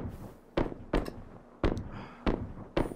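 Sharp explosive blasts from PUBG gunfire or a grenade: five separate loud, close bangs spaced roughly half a second to a second apart, each with a brief decaying tail, no talking.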